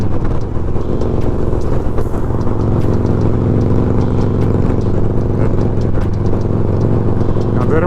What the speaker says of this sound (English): We got some military vehicles, probably going to Chicago.